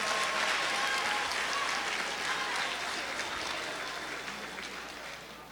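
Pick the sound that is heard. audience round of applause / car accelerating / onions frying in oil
audience round of applause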